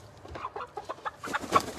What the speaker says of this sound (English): I hope you enjoyed seeing my flock of chickens.